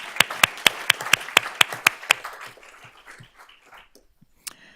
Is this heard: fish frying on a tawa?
no